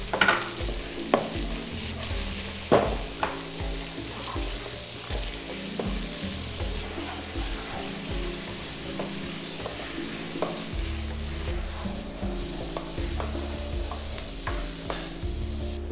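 Shallots and onions fry with salt in a pan, giving a steady close sizzle with frequent spatula scrapes and stirring knocks, going on without any voices.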